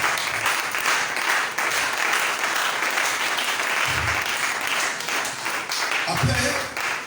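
Church congregation applauding during a sermon, a steady broad wash of clapping that fills the clip, with a few low bumps and no clear speech on top.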